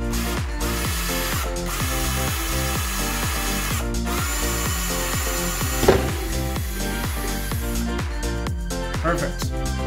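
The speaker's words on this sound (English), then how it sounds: "I'm gonna go ahead and just drill right into the helmet here." Power drill boring into a Captain Rex Phase 2 helmet, a steady whirring motor with rhythmic pulsing bites and a brief sharp crack midway, close and continuous.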